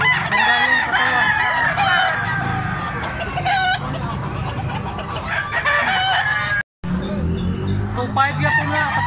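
A Cebu Banded stag rooster crows repeatedly and loudly up close, with other fowl clucking and crowing around it in a busy yard and a brief cut partway through.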